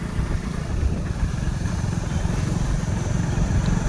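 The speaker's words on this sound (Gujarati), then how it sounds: "અમે એસપલના 2 બાઇક લઈને જઈએ" Two motorcycles ride toward a farm, their engines giving a close, steady low rumble that continues evenly throughout without talk.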